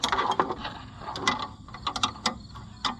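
Metallic ratcheting clicks from a hand wrench turning bolts on the back panel of an Oliver 1755 tractor during repair, irregular quick bursts of clicks, close and fairly quiet.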